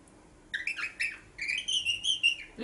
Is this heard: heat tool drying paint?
no